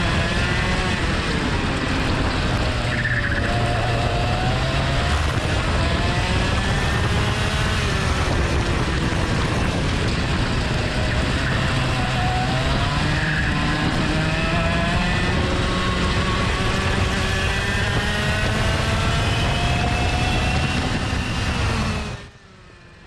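Junior X30 sprint karts racing at Fulbeck, two of them close together as their drivers come together, one kart lifting its front wheels; loud, continuous buzzing engines whose pitch climbs and falls through the corners, cutting off abruptly at the end.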